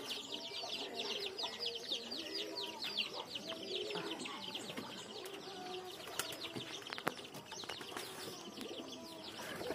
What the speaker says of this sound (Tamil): அடுத்து பார்த்திங்கன்னா நம்ம புறாக்கள்.